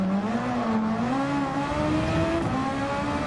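A Formula 1 car accelerating in Gran Turismo 7 on a cafe run, its engine note a steady high whine climbing gradually in pitch, loud and close, continuous for a few seconds with no voices.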